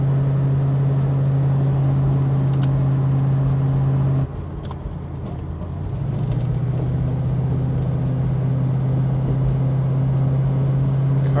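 A 1969 Ford Mustang Mach 1 with a 428 R-Code engine being driven, a loud steady engine drone that drops briefly as it shifts, then settles again at a slightly different pitch.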